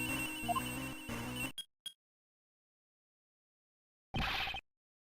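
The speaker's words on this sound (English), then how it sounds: "That sound is a cell phone." A cell phone rings in the Ace Attorney Investigations 2 video game: a bright electronic ringtone starts under game music, cuts off with two short blips, then after a silence a single louder ring burst follows.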